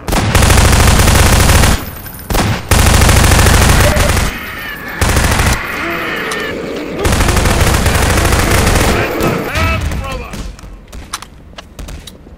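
Rapid bursts of gunfire from the video game Half-Life 2 come in loud, dense volleys with short gaps, thumping hits mixed in, fading toward the end as a voice talks faintly underneath.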